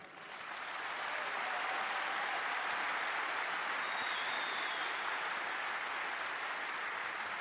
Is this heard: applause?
yes